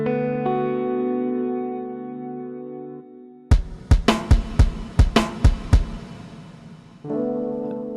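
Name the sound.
reverb effect from Folktek Alter effects pedal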